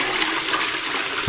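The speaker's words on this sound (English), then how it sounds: "Let's flush it again." A toilet with a blue in-cistern block flushes in a loud, continuous rush of water that swirls and drains. A heavy thump lands near the end.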